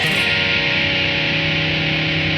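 One loud, sustained distorted electric guitar chord, a voicing high on the neck, rings steadily through effects with no voices, from a song lesson.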